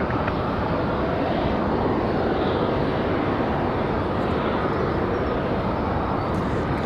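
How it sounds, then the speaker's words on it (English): Delta CRJ regional jet touching down at Raleigh-Durham airport at night, a loud, steady broadband jet roar that fills the whole stretch without letting up. "The Delta touchdown here, the CRJ."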